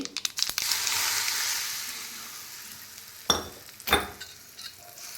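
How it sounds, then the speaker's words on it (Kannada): Hot mustard-seed tempering hits salted, chilli-spiced raw mango pieces with a steady crackling sizzle that fades over several seconds, followed by two sharp stirring or clinking sounds near the end, with no talking. "ಆ ಒಗ್ಗರಣೆನ ನಾವೇನು ಮಾವಿನಕಾಯಿ ಉಪ್ಪು ಖಾರ ಮಿಕ್ಸ್ ಮಾಡ್ಕೊಂಡಿದ್ದೀವಲ್ಲ ಅದಕ್ಕೆ ಹಾಕಿ"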